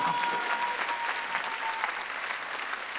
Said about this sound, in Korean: 난 예수님 광고로 나온 걸 믿으면 박수야.